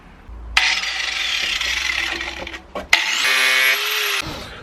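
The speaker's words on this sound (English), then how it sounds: "Just set it up, we've got the angle grinder." An angle grinder cuts through a car's centre armrest while a hydraulic handbrake is fitted to a Mazda MX5 drift car. It makes a loud, steady, high whine that breaks off briefly partway through, then picks up again before stopping.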